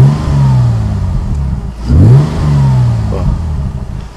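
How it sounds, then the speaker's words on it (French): A 3-litre Ford V6 engine in a 2007 Morgan Roadster idles with a smooth, deep hum, then revs up briefly and settles back to idle, close and loud. "On entend tout de suite le ronron mélodieux d'un moteur équilibré"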